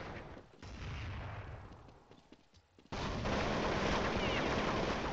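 Rapid gunfire from the video game Counter-Strike 1.6, with bursts of shots running under a quieter passage before a dense, loud barrage takes over for the last couple of seconds.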